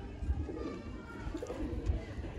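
A breeder pair of pigeons gives soft, low cooing pulses close by, a few throaty bursts in quick succession over a quiet background.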